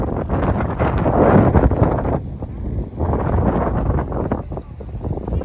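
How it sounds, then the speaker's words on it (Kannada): Strong wind at the KRS backwaters near Mysore buffets the microphone in loud, rumbling gusts that ease briefly before returning. "ಗಾಳಿ ಅಂತೂ ತುಂಬ ಇದೆ"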